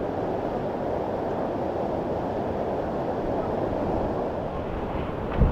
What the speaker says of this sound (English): it is so windy and I am needing to hold on to my phone for dear life